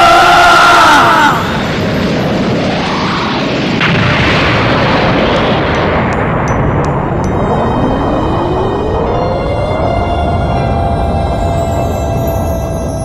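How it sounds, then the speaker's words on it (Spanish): A loud explosion from a Dragon Ball battle: a big burst at the start gives way to a sustained, roaring wall of rumble and debris, with a rising tone emerging partway through and holding steady to the end. "El ki de Gohan estallaría como nunca, y detrás de una gran nube de polvo y una ruidosa explosión"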